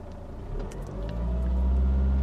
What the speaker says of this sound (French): Maintenant, accélère à demi-tour minute et maintiens.